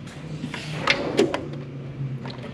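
A drawer on a diagnostic tool cart sliding open or shut, a short rolling scrape with a couple of sharp metallic clicks and knocks, close and fairly loud, with no talk.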